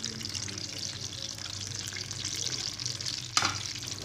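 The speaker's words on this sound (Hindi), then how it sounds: "ये देखिए, हमारे जो हमने अंडे उबाले थे, उनको अब हमने फ्राई करने के लिए डालना है।" Boiled eggs frying in a pan give a steady close sizzle with light stirring, ending in a sharp clatter near the end.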